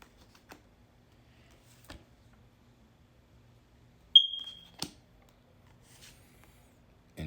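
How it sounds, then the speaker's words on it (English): A single short smoke detector chirp rings out, clear and fairly close, in an otherwise quiet room with a few faint card-shuffling rustles around it. "A smoke detector."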